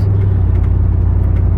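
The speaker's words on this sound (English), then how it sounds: "because the exhaust cracked before, and the exhaust is all messed up." A loud, steady, low truck engine rumble through a cracked exhaust, with a rough, throaty drone that holds throughout, no voices.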